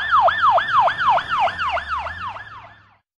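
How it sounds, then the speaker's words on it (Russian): Ambulance siren wailing in rapid, repeating up-and-down sweeps, loud and close, then fading out toward the end. "Скорая помощь."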